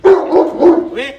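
A Great Dane, a newly arrived female, gives a quick string of loud, close barks with deep, full-throated tone, about three or four in a second.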